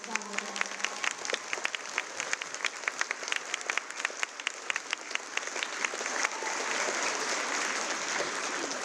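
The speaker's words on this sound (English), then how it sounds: "One more big round of applause for Shonda Blunt." A school audience at a middle school Martin Luther King Jr. assembly breaks into applause. Sharp individual claps build into a fuller, continuous roar of clapping, with a few voices mixed in.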